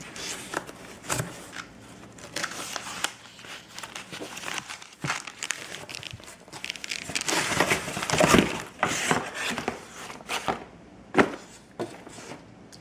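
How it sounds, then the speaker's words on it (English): Close crinkling and rustling of packaging as a diatomaceous earth stone bath mat is unwrapped, with irregular crackles and rustles continuing throughout. "So let me go ahead and unwrap this."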